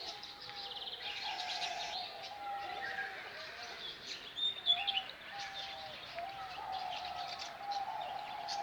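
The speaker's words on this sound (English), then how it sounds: "Those cockatoos? Yeah, those are cockatoos." Cockatoos and other birds call from an aviary in a German botanical garden: overlapping chirps, whistles and soft coos at moderate distance, with no talking.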